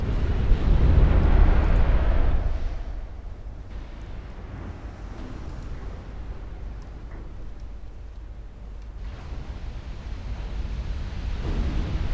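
Shell hits explode on a battleship in a 1964-era naval strategy game, opening with a loud deep rumbling blast that fades into a lower, lingering roar.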